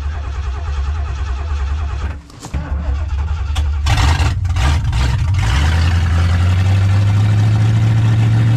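A 1978 Lincoln's engine turns over with rough, uneven cranking that cuts out briefly, sputters through several tries, then catches into a loud, steady low idle close by.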